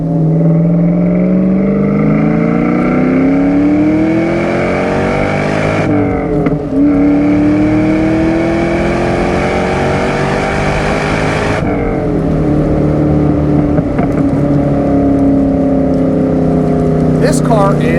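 A supercharged 4.6-litre 1997 Ford SVT Cobra pulling under throttle from inside the cabin, engine tone rising steadily through two gear changes with a brief dip at each shift, loud and continuous.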